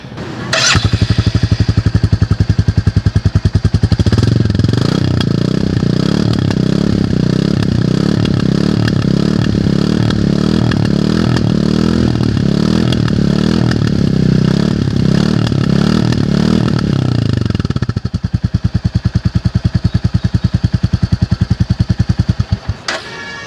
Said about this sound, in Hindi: अब इसके एग्जॉस्ट नोट को सुनते हैं।